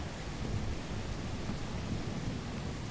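Steady rain and rolling thunder from a storm in the video game Lethal Company, a continuous dense roar with low rumbling throughout, moderately loud and with no one talking.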